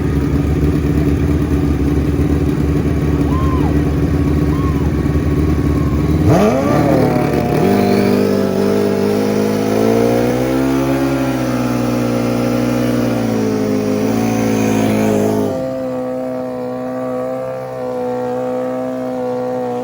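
Turbo and nitrous drag racing motorcycles at a drag strip, a steady idle giving way to a sudden loud launch and screaming high-revving run through gear changes, then fading to a lower rumble.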